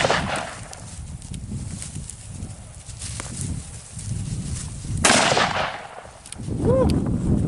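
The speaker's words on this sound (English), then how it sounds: "his other Ruger Blackhawk chambered in 44 mag" Ruger Blackhawk revolver chambered in .44 Magnum fired outdoors, a few heavy booming shots with one especially loud blast near the middle, over breezy background noise.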